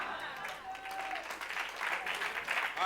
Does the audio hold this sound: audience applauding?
yes